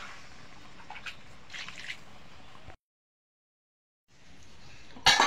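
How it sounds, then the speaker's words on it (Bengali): Water is poured into a pan of braised chicken, a wet trickling and splashing up close, cut off by a stretch of silence before a louder sizzling splash at the end. "এবার জল দিয়ে দেবো পরিমাণ মতো"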